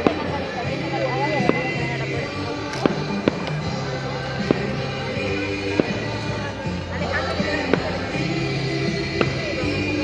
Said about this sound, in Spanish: ya se oyen los cohetes